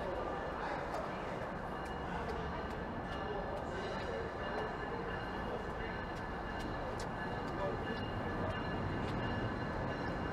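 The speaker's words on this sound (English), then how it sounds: "we can hear a GO train rolling through" A GO commuter train rumbles through downtown Toronto near Bay Street, a steady low roar from a distance blended into busy city ambience, with people talking faintly over it.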